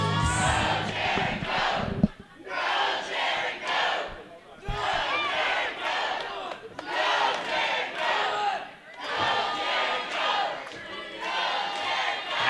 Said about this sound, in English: Jarron Fulton getting the crowd behind him as he faces off with Woux.